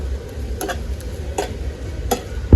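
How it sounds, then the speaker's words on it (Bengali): Thick coconut filling cooks in a pan while being stirred, giving a low soft bubbling bed with a few sharp scraping ticks of the spoon against the pan, fairly quiet and without talk. "দেখুন নারকেলের পুটটা কত সুন্দর ফুটছে আপনারা এইভাবে আস্তে আস্তে ঘন ঘন নাড়া দেবেন নাহলে তলে লেগে যাবে"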